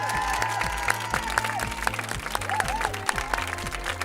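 More than 300 runners gathered for a charity road race against cancer applaud together, a dense burst of clapping from a crowd outdoors, loud and steady, with a repeating low musical beat playing underneath.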